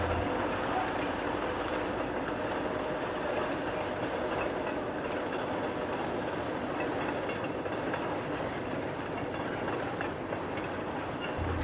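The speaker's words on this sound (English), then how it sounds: "At Route 102 in Herman, train 202 is on its way to Millinocket." Train 202 rolling past Route 102 in Herman toward Millinocket in snowy conditions, a steady, loud, continuous rumble of railcars with clickety-clack of wheels throughout, close by and unbroken.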